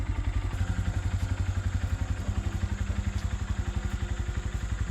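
A red Honda Grom motorcycle on its first ride, a small engine thumping in a fast steady putter, loud and close throughout, with no voices.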